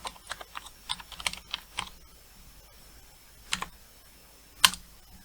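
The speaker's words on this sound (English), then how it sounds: "And I can press other keys as well." Keys pressed on a CreatiVision computer keyboard, a scatter of close clicks in quick clusters, then pauses and a few louder isolated taps.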